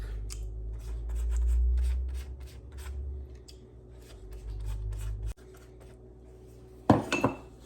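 Garlic butter is stirred in a small dish and brushed onto venison Hawaiian sliders: a series of quick, light clinks and scrapes of utensil against dish under a low hum, then a louder clatter near the end.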